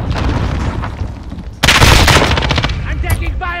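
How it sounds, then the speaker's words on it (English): Automatic gunfire in a Call of Duty: Modern Warfare team deathmatch on Hackney Yard, with rapid bursts that jump sharply louder midway, layered with game noise and brief voice-like sounds. "I'm taking fire."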